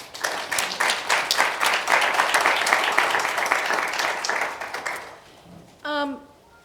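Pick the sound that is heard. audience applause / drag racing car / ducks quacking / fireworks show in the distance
audience applause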